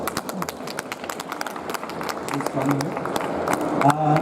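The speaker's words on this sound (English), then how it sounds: "Please, some applause for Lisa." An audience at a startup panel event in Japan applauds with brisk, irregular clapping, moderately loud and close, rising slightly toward the end as a voice speaks over it.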